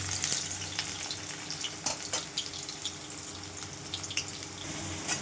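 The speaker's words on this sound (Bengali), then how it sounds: "আলুগুলো দিয়ে দিয়েছি, এবার ভালো করে লাল লাল করে ভেজে নেব" Steady broad hiss of potatoes frying in oil, with occasional faint crackles and light stirring sounds.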